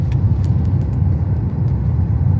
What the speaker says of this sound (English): You see it's slightly misfiring there,